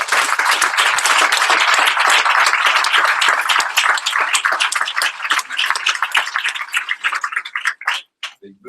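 An audience applauds ambassadors at a mastermind meeting, with close, crisp clapping that is dense at first and then thins to scattered claps before stopping.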